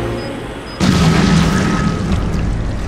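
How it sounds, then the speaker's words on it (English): A remote bomb detonates in Resident Evil 7 with a sudden loud boom, and the blast is followed by a sustained rumbling roar and crackle that lingers for a couple of seconds. "we can detonate him whenever we want to"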